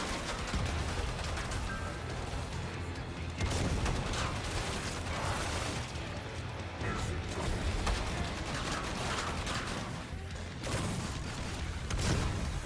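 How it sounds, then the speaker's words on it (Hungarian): Gunfire in the video game Killing Floor 2: loud, broadband shots and bursts crack at irregular intervals through a dense, noisy game soundscape with mechanical clatter, and no voices. "Még egy lövés, és megadom."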